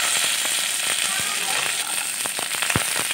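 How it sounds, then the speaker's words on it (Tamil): Mustard and cumin seeds sizzle in hot oil, a steady close hiss broken by sharp, scattered pops and crackles. "எண்ணெய் காஞ்சதுக்கப்புறம் கடுகு ஜீரகம் போட்டு தாளிச்சிருங்க"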